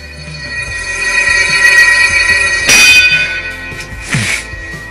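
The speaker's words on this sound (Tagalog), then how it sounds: "Okay, patunogin na yung bell." A boxing ring bell in an anime match clangs loudly with a bright ringing tone and sharp strikes around the middle and later, alone with no talk.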